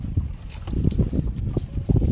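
Strong wind buffets a fishing boat on a river during shrimp netting, a loud, rough, continuous rumble of gusts against the microphone with faint water movement, no talking.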